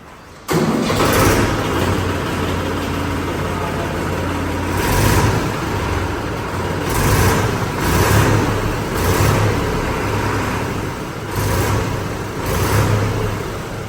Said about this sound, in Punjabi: ਸਟਾਰਟ ਕਰਨ ਲੱਗੇ ਦੂਆ ਟਰੈਕਟਰ